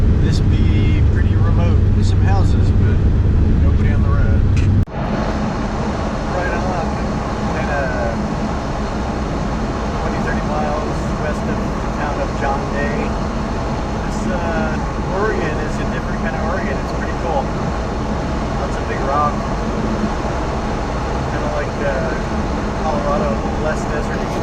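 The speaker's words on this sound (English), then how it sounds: "Cruising down Highway 26 in central Oregon." A car cruises along Highway 26 through remote central Oregon, its engine and road noise forming a loud, steady drone that runs through the whole stretch with a brief shift near the start.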